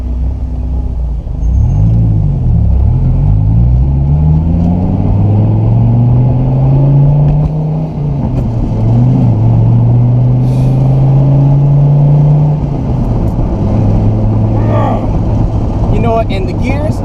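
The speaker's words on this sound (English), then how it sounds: "it's hard not to pay attention to this exhaust sound" A loud, close V10 exhaust of a Dodge Viper SRT-10 roars and revs, its deep drone rising and falling in pitch through repeated accelerations, with occasional faint clicks.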